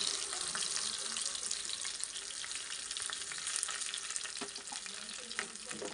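Ginger garlic paste frying with whole spices, cloves, dried red chillies and bay leaf in a pan for chicken rezala, giving a steady close hiss and sizzle with faint stirring clicks throughout, no talk.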